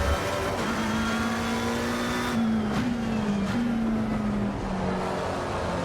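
Race car engine in Assetto Corsa Competizione, a GT World Challenge car under light trail braking and throttle, holds a loud steady drone that shifts pitch gently as revs rise and fall, with no talk over it.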